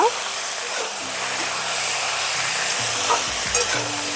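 Continuous loud sizzling of flat beans and potatoes frying with turmeric and salt in a pan, with occasional scraping of a spatula stirring them.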